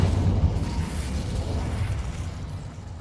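An Incendio fire spell in Hogwarts Legacy lands as a low, rumbling whoosh-burst that swells and then slowly fades over a few seconds, with no speech.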